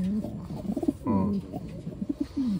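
Soft, throaty racing pigeon coos repeat in short rolling phrases, fairly close, with a brief louder burst midway and faint background noise.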